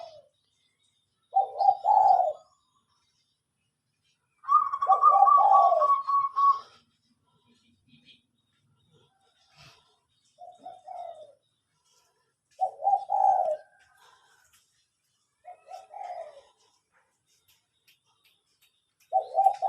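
Zebra doves coo in a trap setting, giving repeated soft, rhythmic bursts of cooing calls separated by pauses of quiet, fairly clear and moderately near.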